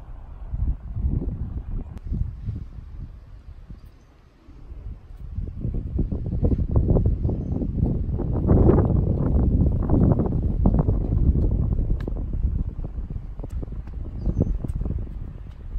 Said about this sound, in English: Wind's hurting pretty good.